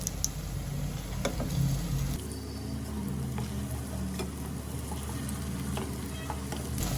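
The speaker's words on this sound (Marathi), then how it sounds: "मी दोन्ही साईडनी चांगले लाल होस पर्यंत भज्यांना चांगला तळून घेते" Bhaje fritters deep-frying in oil over a medium flame, a steady close sizzle and crackle running throughout with occasional sharp pops and light ticks.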